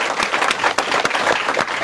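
Audience clapping to thank recovered patients, a short dense burst of many hands applauding close and loud throughout.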